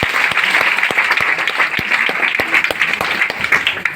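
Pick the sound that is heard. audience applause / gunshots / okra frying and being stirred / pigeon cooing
audience applause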